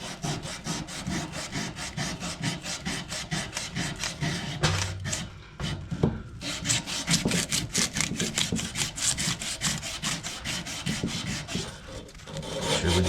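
A dirty pipe end gets scrubbed by hand with steady, rhythmic rasping strokes, close and continuous with one brief pause, ahead of a Sharkbite fitting installation.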